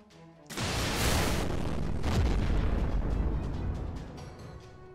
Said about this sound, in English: Alright, I think that calls for another cannon blast.